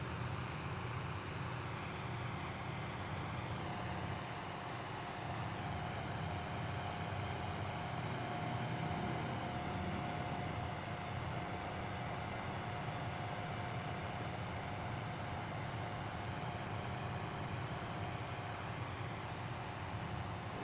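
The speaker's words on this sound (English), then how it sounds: "you can really hear the sound of the engine working along with the implement" Tractor engine in Farming Simulator 22 pulling a seeder implement, a steady low mechanical drone with a faint whine that holds evenly throughout at moderate level, with no talk.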